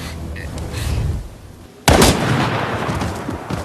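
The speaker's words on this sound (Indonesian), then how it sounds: "Hinako justru menembak si Utsubo" A pistol gunshot in a film cracks out sharply and loudly midway, breaking a low tense rumble and followed by a sustained reverberant roar.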